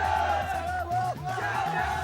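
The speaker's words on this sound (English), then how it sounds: "Sebastien Loeb's fan club hop over from France and invite me to cheer the rally favourite" French fans of rally driver Sebastien Loeb at the 2004 WRC Rally Germany cheering and shouting together, loud and close, with overlapping whoops and calls amid a lively crowd.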